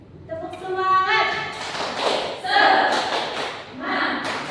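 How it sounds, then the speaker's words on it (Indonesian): An Indonesian grade 8 class does the 'tepuk semangat' rhythmic clap. Children's voices chant first, then a burst of sharp, close hand claps comes in uneven groups mixed with the chanting. "Tepuk semangat."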